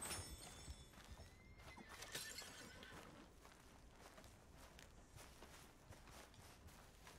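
A horse whinnies in Red Dead Redemption 2, followed by steady clip-clopping hooves, fairly quiet and continuous throughout.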